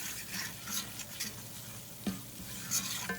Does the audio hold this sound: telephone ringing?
no